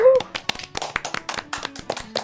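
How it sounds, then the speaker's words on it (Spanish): Scattered clapping from a small group during a youth-project podcast, distinct individual claps in an uneven rhythm, fairly close, with a voice briefly heard alongside. "Un aplauso para ellos"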